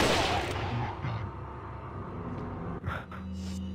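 Gunfire in the video game Resident Evil 4: a dense, rumbling burst of shots that thins into a muffled, continuous din, with a sharp crack near the end.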